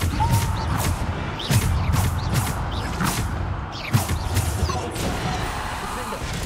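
Bombarda blasting spell cast during combat in the video game Hogwarts Legacy, a series of sharp impact bursts and crashes repeating over a dense mix of game effects, mechanical clatter and rumbling.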